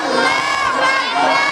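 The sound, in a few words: audience shouting the takbir chant in unison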